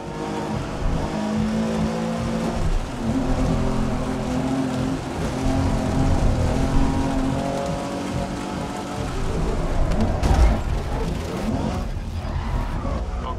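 Race cars in a wet race in the video game Race Driver Grid, with a steady hiss of rain and spray blending with engine drone, moderately loud and continuous, one sharper burst near the end.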